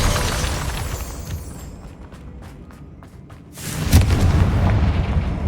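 A Confringo blasting curse detonates in Hogwarts Legacy, a loud sudden boom that swells over the game's rumbling background and keeps roaring to the end, with no talk.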